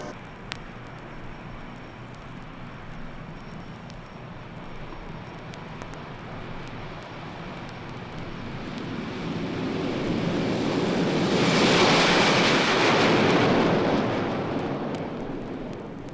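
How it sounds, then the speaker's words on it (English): An F-100 Super Sabre jet takes off from the end of a runway, a distant roar that builds gradually into a loud, broad rushing blast peaking near the end before starting to fade. "The Super Sabre has taxied down to the end of the runway and is now waiting permission from the control tower to take off"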